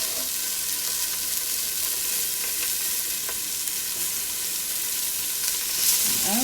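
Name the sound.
ginger beef cooking in a pan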